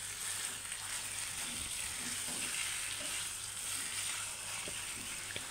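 Chicken cooking in a pan with no added water as it releases its own juices, giving a continuous, even sizzle close by with occasional small pops and stirring scrapes.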